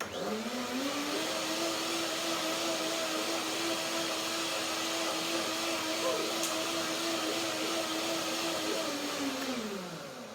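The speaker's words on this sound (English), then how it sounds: "Now, one more blending and then the cilantro goes in." A blender runs continuously for about ten seconds while blending a cashew mayonnaise, a loud, steady motor whir that ramps up at the start and winds down at the end.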